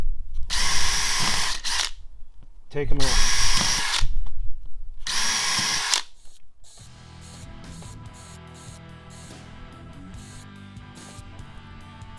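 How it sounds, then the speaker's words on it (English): A power drill chain-drills a row of holes in aircraft sheet metal in a hangar, giving three loud, high, whining bursts separated by pauses, then fainter mechanical rattling and a brief spoken remark. "we're just going to chain drill this"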